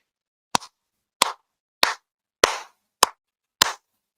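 Six sharp, loud hand claps spaced about half a second to a second apart, each crisp and isolated against silence, close to the listener.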